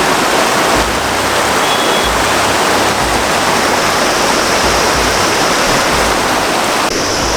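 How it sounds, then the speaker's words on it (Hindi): Loud, rushing water of the Sindh river near Ganderbal, a constant roaring torrent heard up close with no speech over it. "ये है सिंध नदी।"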